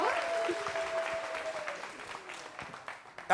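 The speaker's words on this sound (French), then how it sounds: "Applaudissez pour elle." Audience applause at a French-language variety show, steady clapping that slowly thins out over a few seconds, with a brief whistle and a voice heard over it.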